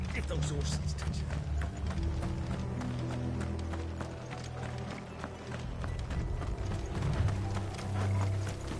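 Horse hooves clip-clop in a quick, running rhythm in a Final Fantasy video game, a clear string of hoofbeats layered over a low droning score.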